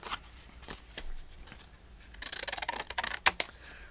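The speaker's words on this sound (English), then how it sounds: "Now, we can cut our roof any way we want." Scissors snipping paper into a roof shape for a quirky house in an art journal, a series of quiet crisp cuts at first spaced apart, then a quicker cluster of snips, close by.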